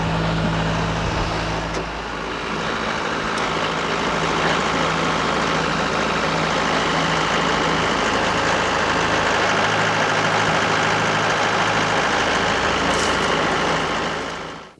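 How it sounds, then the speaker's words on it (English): A Mahindra 4540 tractor engine runs steadily under load while pulling trees, a loud, continuous low rumble with constant throttle throughout and no talk. "I've got a beast of a tractor to help pull this up"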